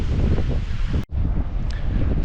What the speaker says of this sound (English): it is windy and cold and miserable